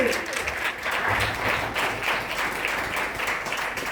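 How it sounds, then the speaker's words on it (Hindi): Sustained applause from a church congregation during a sermon fills the clip, a dense, even wash of many hands clapping at once. "इस जोरदार तालियां बजाएं"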